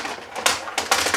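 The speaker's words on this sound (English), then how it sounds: "So we're first going to cut. Let me see. Bring in our trimmer back." A paper trimmer slices through card in a crafting setup, giving short sharp scraping swipes: one quick cut and then a pair of rapid strokes close together, near and crisp, with nothing else in the background.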